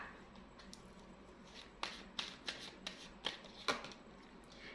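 Tarot cards are handled up close, a soft rustle followed by a run of crisp flicks and snaps at a quick, uneven pace.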